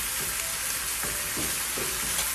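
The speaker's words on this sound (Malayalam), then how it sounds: "അതിനുശേഷം നന്നായിട്ടൊന്ന് ഇളക്കി കൊടുക്കുന്നു." A pan of Manchurian sauce with soy sauce and ketchup sizzles steadily over a high flame while being stirred, with soft scraping strokes recurring every second or so.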